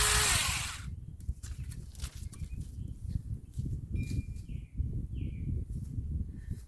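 A Saker 4-inch mini chainsaw runs while trimming tree limbs on a farm, its buzzing motor loud and continuous throughout, with birds chirping faintly in the background.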